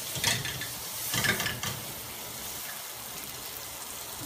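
Onion, garlic, thinly sliced ginger and beef being stir-fried in a hot pan for a Chinese beef stir fry, with a few scraping stirs early on over a steady sizzling hiss.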